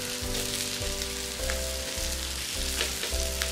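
Aloo patties fry in a pan after being flipped. A continuous soft sizzle sits beneath a pulsing mechanical hum that cuts in and out in a rhythm.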